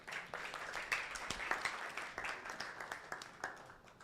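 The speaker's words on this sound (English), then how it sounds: "Round of applause for Trees for Girls." Moderate applause from the crowd at a 2024 climate change prize competition, many hands clapping with distinct sharp claps standing out, heard at a slight distance and fairly quiet overall.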